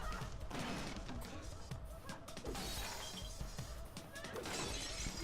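Glass shatters and crashes repeatedly as a woman smashes up her apartment in a TV drama scene, dense breaking and clattering throughout with voices faintly underneath.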